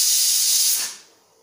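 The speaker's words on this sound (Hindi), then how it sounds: "हमारी 5वीं विसल भी आ चुकी है, अब मैं गैस का फ्लेम ऑफ कर देती हूँ" A pressure cooker on a gas stove, cooking sambar, lets out a loud, steady hissing whistle of escaping steam that holds for most of a second and then tails off into quiet.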